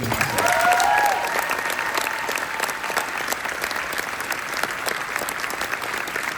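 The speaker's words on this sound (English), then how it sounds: "One more time, let's hear it for Adele" Loud, sustained applause from a large crowd, steady clapping filling the whole stretch without any speech.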